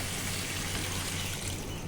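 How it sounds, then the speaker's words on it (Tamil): Water poured into a pan of chicken curry, a steady close rushing pour that fills the whole moment without a break. "தேவையான அளவுக்கு நம்ம தண்ணி ஊற்றியாச்சு."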